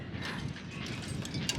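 A ratchet tightens a sailboat's sail stay with a quick series of close mechanical clicks and metallic turns over a soft background hum.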